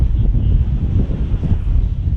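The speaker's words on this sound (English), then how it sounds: "The wind is insane." Powerful coastal wind at Peggy's Cove lighthouse pounds the microphone in a loud, heavy, unbroken low roar with surging gusts.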